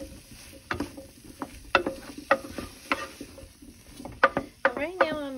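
Goulash ingredients sautéing in a slow cooker while being stirred, with sharp, irregular utensil scrapes and clacks against the pot over a low sizzle, close and fairly loud.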